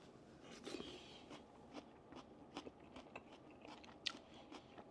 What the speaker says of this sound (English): I like the crunch of the raw onions